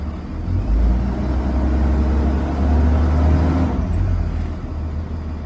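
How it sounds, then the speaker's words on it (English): A school bus engine in drive revs up to about 1500 RPM during a brake test, a loud, close, low droning rumble that holds steady, dips briefly and then settles back to idle. "I will press the accelerator up to 1500 RPM and release my foot off the accelerator"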